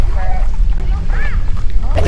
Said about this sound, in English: it's the wind. you're out windy. I know, it's really strong.